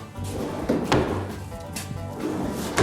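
Slide-out drawers on a mobile kitchen island with a thick end-grain butcher block top roll open and shut, giving low rumbling glides and a few soft wooden thunks, close and fairly loud with no talk.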